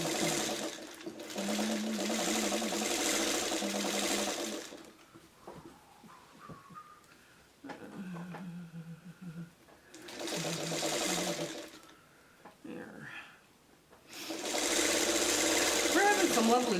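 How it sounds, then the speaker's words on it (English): A sewing machine joins quilt sashing strips together, running in several loud, close bursts of steady whirring, with quieter handling sounds and someone speaking between the runs. "Oh, I gotta get the sashing sewn together."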